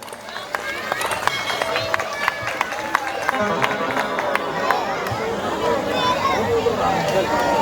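Audience applause at an outdoor Ramleela performance, steady dense clapping mixed with crowd chatter, sustained and fairly loud.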